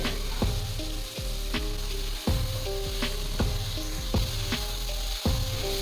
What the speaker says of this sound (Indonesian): Kita tumis hingga menyusut airnya dan matang